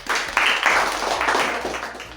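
A quiz competition audience breaks into applause, a brief, steady burst of many hands clapping together at close, loud level.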